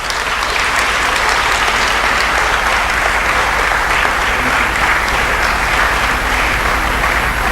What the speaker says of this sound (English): with a very big round of applause, kindly join me welcome our special guest of honor, Mr. Ernest Ofori-Sapong